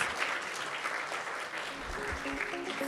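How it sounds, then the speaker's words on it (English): An audience applauds steadily at the close of a women-in-risk radio episode, a dense wash of clapping held at even loudness throughout with no voices over it. "let's everyone give Ruth a round of applause"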